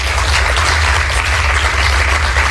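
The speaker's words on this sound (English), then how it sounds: "we got a little golf clap going on there" A crowd at a political speech gives a round of polite applause, a continuous, even patter of many hands clapping over a low, steady background hum, with no voices.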